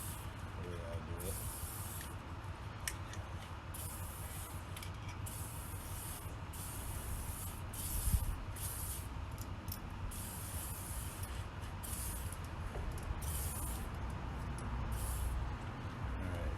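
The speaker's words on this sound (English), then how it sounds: "I'm going to spray it with just some WD-40 as it goes in." WD-40 aerosol sprayed onto a MerCruiser Alpha sterndrive part during shift cable and bellows replacement, heard as a steady, continuous close hiss lasting throughout with a few brief breaks and a small bump midway.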